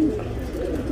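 Tournament pigeons coo softly and briefly, a low murmuring bird call close by with no other sound over it.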